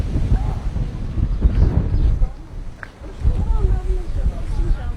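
Gusty wind buffets the microphone in heavy low rumbling surges that rise and fall over several seconds, loud and rough, with faint voices barely audible underneath.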